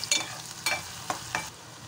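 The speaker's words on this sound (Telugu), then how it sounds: "ఆనియన్ బాగా ఫ్రై అవ్వాలి. ఫ్రై అవుతేనే మంచి గ్రేవీ బాగుంటుంది" Onions frying in a pan for a ragi masala gravy, with a soft, quiet sizzle punctuated by four sharp spatula stirs or scrapes at roughly even intervals, close by with no talking.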